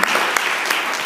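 Church congregation clapping hands in praise, a loud, dense burst of many hands with a few sharper claps standing out.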